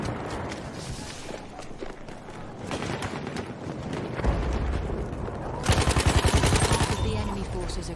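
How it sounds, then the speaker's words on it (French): Bursts of gunfire in Battlefield 1, rapid automatic volleys and scattered shots crackling at varying distances, building to a dense close burst near the end, with a voice speaking French over the shooting. "Quand ça tire."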